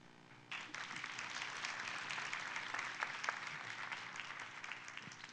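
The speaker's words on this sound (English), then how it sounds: "we thank you with a warm applause." Audience applause at the close of a conference talk on higher and vocational education, steady clapping from a room of listeners sustained throughout after a brief quieter start.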